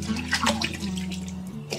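Pork ribs are rinsed in water, giving close, continuous splashing and running-water sounds with small sloshes throughout. No one speaks.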